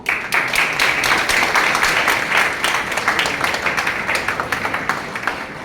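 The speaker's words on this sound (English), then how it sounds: "Let's give a huge round of applause to our talented students for their outstanding performance" Sustained applause from an audience at a school-level youth parliament, dense overlapping clapping at steady loudness throughout, with no talking.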